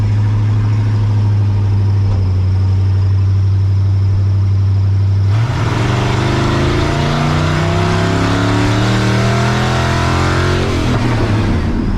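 A turbocharged 5.0-swapped Ford Ranger on drag slicks idles with a steady low drone, then launches hard at the drag strip around midway, its engine roaring and climbing through rising revs, loud and close, with no talking.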